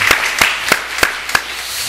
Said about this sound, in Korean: 축복 한번 해주시면 박수 한번 해줍시다.